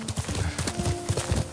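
Horse hooves clip-clop in a steady, even rhythm as the horse is ridden, a brief close run of hoofbeats with no talk over them.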